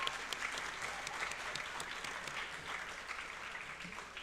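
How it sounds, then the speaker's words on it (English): Steady applause from an audience at a student-athlete awards night, soft and somewhat distant, a continuous patter of many hands with no voices over it. "So please join me in a round of applause for all of those special folks"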